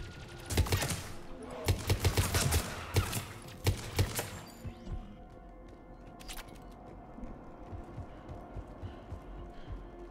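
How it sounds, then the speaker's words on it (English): Bursts of rapid gunfire in the video game Mass Effect 3 crackle in quick clusters for a few seconds, then fade to sporadic distant shots over a low hum. "Shepard, I hear gunfire."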